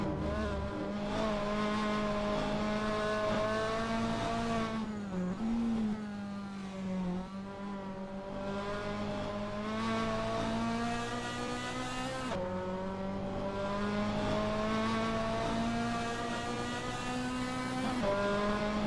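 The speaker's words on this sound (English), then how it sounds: "Racer 11C is driving through Vidal chicane." Race car engine in a racing video game at the Nurburgring, droning steadily through the Vidal chicane. The tone dips briefly around the turns, tires squeal now and then, and the pitch climbs again as it accelerates. No one speaks.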